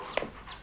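A dog gives a single short, faint whimpering whine, brief and close, over quiet room background.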